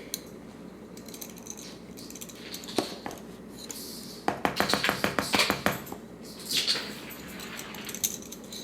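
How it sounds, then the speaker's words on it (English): A cat batting a heavy whipping cream carton around a kitchen, making light scattered taps and a quick run of hollow knocks midway, fairly close and soft. "If you're wondering what that noise is, my cat is playing with the heavy whipping cream"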